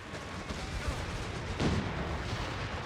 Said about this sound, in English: AT gun bouncing off that Churchill some more